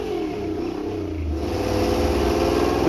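A car engine revs hard and steadily climbing toward 6,500 RPM on a chassis dyno during a pull, a loud continuous drone with rising pitch and no voices.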